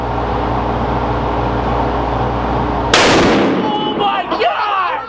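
.50 caliber rifle fired at an outdoor range: after a steady low hum, one loud, close, booming shot cracks out and echoes away, followed by excited shouting.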